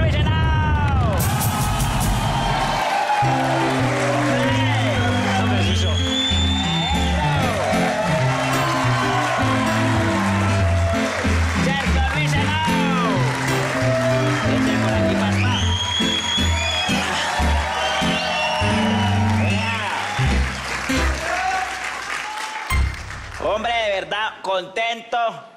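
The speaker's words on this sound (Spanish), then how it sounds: "Vamos a darle un gran aplauso" A television studio audience cheers, whoops and applauds as a cyclist is welcomed onto a Caracol talk show, loud and continuous over a live band playing, fading toward the end.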